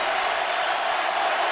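Dense, steady roar of a college football stadium crowd cheering at the Auburn versus LSU game, a broad wash of voices and applause holding at a constant level throughout with no single speaker standing out.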